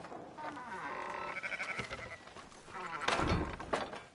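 Sheep bleat in Red Dead Redemption 2, several harmonic calls overlapping across the clip with a louder burst near the end, set against a busy game background.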